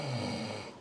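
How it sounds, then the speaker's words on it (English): A friend snoring over a gaming party chat, a soft, low, rumbling breath that holds steady and faint through the whole short stretch, with no talk over it. "Wait, I can hear him snoring."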